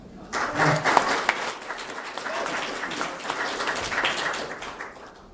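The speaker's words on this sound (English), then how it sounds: "Now you have to applaud for him." Audience applause at a Douglas County Republican candidate forum, a steady wash of clapping from a room of people that holds for several seconds after a candidate for District 1 Commissioner finishes.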